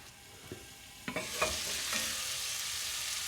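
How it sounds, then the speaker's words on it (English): Squash browning in a pan for ratatouille, with a steady sizzle of frying that holds throughout and a few sharp clatters of stirring near the middle, heard close up with no talking. "now we're gonna cook this down, and we're just cooking it down to brown it"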